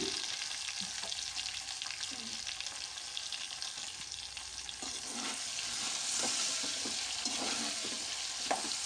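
Cut vegetables are stirred through hot oil in a frying pan, with steady sizzling and repeated scraping strokes of a utensil against the pan, close up with no talking.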